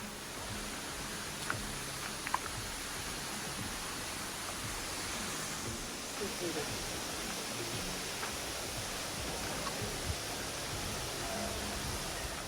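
Ribbon Falls on the North Kaibab Trail pours in a steady, even broadband hiss, a constant wash of falling water with no breaks.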